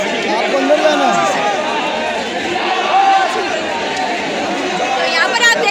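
Close, busy crowd chatter at a stage entrance, many overlapping voices forming a steady babble with occasional louder calls, and a nearby voice speaking over it.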